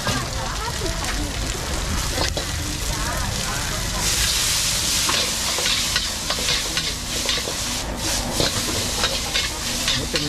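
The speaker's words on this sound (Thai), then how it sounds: "ผัดไปนะทุกคนครับ" Pad thai made with Chanthaburi rice noodles stir-frying in a wok at a busy street stall, a loud continuous sizzle with scraping spatula strokes, under steady talk and crowd chatter.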